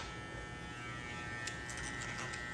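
Electric beard trimmer fitted with a number 3 guard, a steady close buzzing hum running evenly throughout, with a faint click at the very end and no voices.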